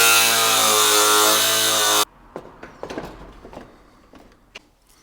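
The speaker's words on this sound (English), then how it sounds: "having way too much fun cutting this bumper" A power tool grinds loudly and steadily through a car bumper being trimmed on a built Subaru STi, then cuts out abruptly, leaving scattered knocks and handling clatter.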